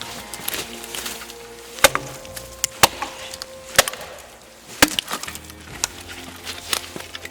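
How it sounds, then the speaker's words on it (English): A Silky Nata 240mm blade hacks into a tree in sharp, loud, woody whacks, about one per second and slightly irregular, with quieter knocks in between. "It's very loud to be sitting there hacking on a tree."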